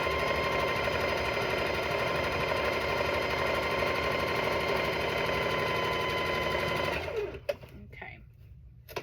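A sewing machine stitches quilt rows together in a fast, steady mechanical whir that runs for most of the stretch, then stops abruptly near the end, followed by a few soft handling clicks.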